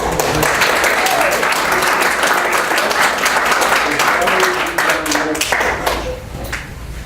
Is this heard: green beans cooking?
no